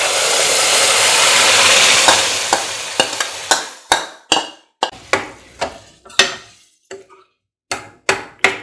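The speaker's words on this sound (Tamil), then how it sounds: "இப்போ நம்ம வந்து நம்ம கடைஞ்சி வச்ச அந்த கத்திரிக்காய் கொஸ்தை நம்ம இதில் சேர்த்துக்கலாம்." Eggplant gothsu gets stirred into hot tempering in a pan, starting with a strong sizzle that fades. A ladle then knocks and scrapes against the pan in a steady series of sharp taps, with nobody speaking.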